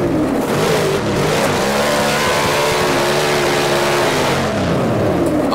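A car engine in the video game Assetto Corsa, drifting with oversteer, rises and falls between steady high revs and brief dips, loud and close, with no voices.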